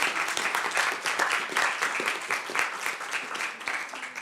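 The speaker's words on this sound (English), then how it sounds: "So if you could give her a round of applause" A room full of people gives a staff member a warm round of applause at a human rights event, a continuous, even clatter of many hands held at moderate loudness throughout.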